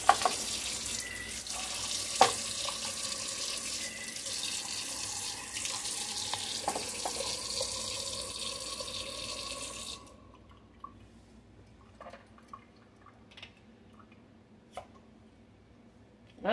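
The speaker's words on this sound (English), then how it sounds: "I'm going to wash my jars off and get them in the pot." A kitchen tap runs steadily while canning jars are washed, a loud close rush with a few clinks, then the water shuts off and only faint drips and knocks of the jars remain.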